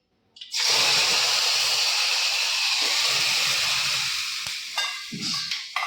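Food is dropped into extra hot oil for a dahi tikhari: a sudden loud sizzle bursts in and holds steady, then fades as stirring and clattering utensil knocks take over, with no speech.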